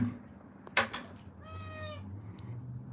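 Pet cat gives a single clear, close meow lasting about half a second, preceded by a couple of soft knocks or rustles against a low hum in the room.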